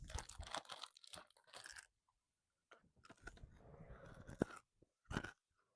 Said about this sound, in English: I feel like they'll be able to pick up my eggy crunchy on the mic.